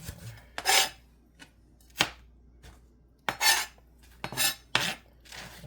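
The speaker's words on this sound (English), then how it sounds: "So we're gonna chop up our peppers." A knife chops peppers on a kitchen board in separate crisp cuts, several sharp strokes in uneven bursts with brief pauses, close and clear with no talking.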